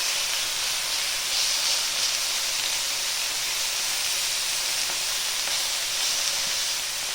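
Raw chicken pieces sizzle in a hot pan with a light coating of oil, a steady, dense, hissing crackle that holds close and even throughout with no talking.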